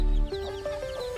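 A native village hen with about fifteen newly hatched chicks, heard up close as a steady run of soft clucks and peeping, with no talking.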